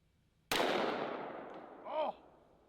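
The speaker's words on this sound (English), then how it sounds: "I have some Underwood ammo, 340 grain, 44 Magnum plus P. All right, here we go." A single .44 Magnum revolver with a 3-inch barrel fires an Underwood 340 grain +P round: one sharp, sudden crack that trails off into a long fading decay.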